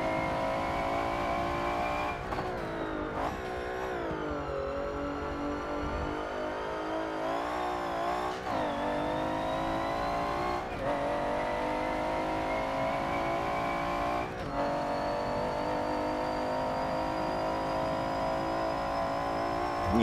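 A 650 horsepower V12 Jaguar XJS race car driving on track, its engine loud and continuous from inside the car, rising in pitch through the gears with several shift dips, briefly under a voice.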